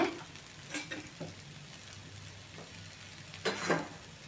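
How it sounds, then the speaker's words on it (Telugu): A pesarattu, a green gram dosa, cooks on a pan with oil drizzled over the top, producing a faint, steady sizzle broken by a few soft scrapes and taps nearby. "పైనుంచి ఇలా ఆయిల్ వేసి కాల్చుకోవాలన్నమాట దోశ బాగా ఎర్ర కాలనీయండి"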